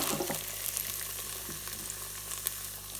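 Shallots sizzle as they fry in melted butter in a rice cooker or saucepan for a scallop risotto, with a steady close crackle and a few brief stirring scrapes and no talking.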